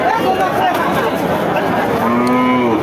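A Deshal-breed dairy cow lets out a loud, drawn-out moo close by, with a second lower moo near the end over faint background chatter.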